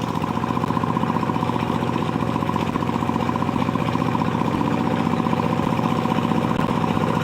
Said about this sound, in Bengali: আসছে পাওয়ার টিলার সামনে এগিয়ে আসছে দেখতে পাচ্ছেন